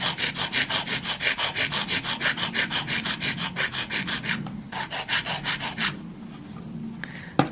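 Fingernails being filed with a nail file along the free edge and sides, a close rapid rhythmic rasping in even back-and-forth strokes that briefly pauses and resumes.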